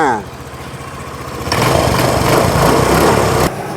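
A Honda Click 125i scooter with an electric-start fault, though it kick-starts normally, whirs briefly, then its small engine catches and runs loud and close with a buzzing drone before easing down.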